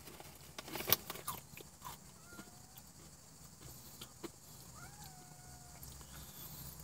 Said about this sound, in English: Unfortunately, there's a cat on the car